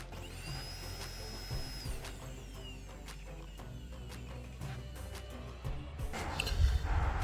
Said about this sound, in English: I'm going to turn on the vacuum cleaner.